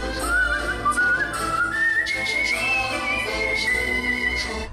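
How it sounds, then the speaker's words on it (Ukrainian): Someone whistles a wavering, sliding melody over a busy background, the tone rising and falling continuously. "Ми знаємо, що свист може бути мелодійним."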